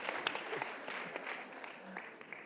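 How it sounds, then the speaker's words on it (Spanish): Audience at a university event applauding a new administration, steady close clapping that fills the short moment. "Un aplauso para la nueva gestión."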